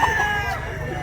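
A rooster at a Cebu poultry seller crows once nearby, a loud drawn-out call that trails off quickly, over a busy outdoor background.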